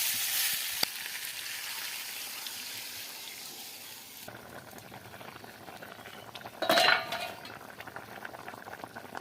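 Water is poured into a pan of fish curry with plantain, potato and drumstick, giving a bubbling, boiling hiss that rises, then drops back to a quieter simmer, with a brief louder splash near the end.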